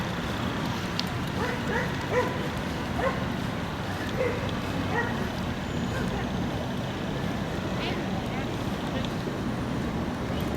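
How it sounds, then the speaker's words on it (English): Dogs bark and yip intermittently a short way off during an outdoor dog training lesson, moderately loud over steady traffic noise, with no talk in this stretch. "Getting a little distracted by the dogs over there."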